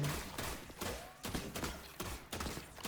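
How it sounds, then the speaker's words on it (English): Gunfire in The Last Caretaker video game, shots with bullets ricocheting and bouncing, a few close bursts of sharp impacts spaced through the moment over a dense noisy background. "I like that these bullets sort of like bounce, multi-bounce or something."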